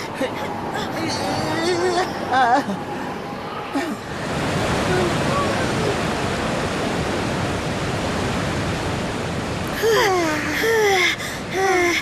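An animated waterfall roars as a broad, steady rushing wash that fills the scene, with voices and gasps of cartoon characters over it at the start and end.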